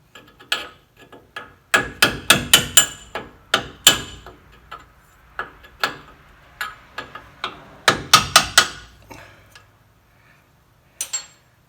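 Sharp hammer blows knocking seized rear brake rotors off a Ford F-150 pickup, struck in irregular bursts of close, loud metallic taps with short pauses between groups.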